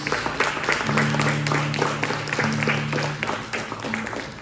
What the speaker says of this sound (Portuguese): Você pode dar uma salva de palmas ao nosso Deus